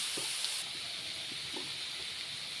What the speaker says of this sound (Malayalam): നമുക്കിതിനകത്തേക്ക് തക്കാളി കൂടി ചേർത്ത് കൊടുക്കാം. എന്നിട്ട് നന്നായി ഇളക്കുക.